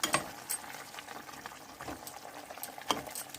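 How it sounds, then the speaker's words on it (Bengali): Water boiling in a cooking pot bubbles faintly and steadily, with occasional soft pops and a few louder bursts, no voices present. "জলটা ফুটে উঠেছে"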